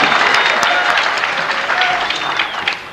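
A crowd at a jazz award concert applauds warmly, with steady clapping that slowly tapers toward the end, and a few faint whistles rise above it.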